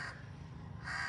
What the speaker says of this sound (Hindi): तभी ये कौवा जो है वो इस बाउल में से, डब्बे में से रोटी खा रहा है